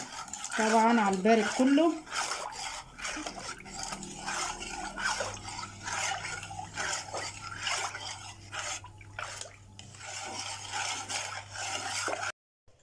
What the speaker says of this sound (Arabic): هنقلب كده